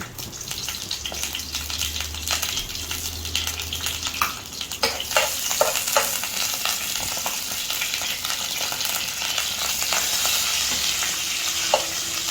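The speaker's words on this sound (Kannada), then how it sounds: "ಪ್ಯಾನ್ ಇಟ್ಕೊಂಡು ಇದನ್ನು ನಾವು ಬೇಯಿಸ್ಕೊಂಡಿದ್ವಲ್ಲ ಅದನ್ನು ಫ್ರೈ ಮಾಡಬೇಕು" Boiled squid frying in a pan over a low flame gives a continuous close sizzle with intermittent stirring scrapes and spatula taps throughout.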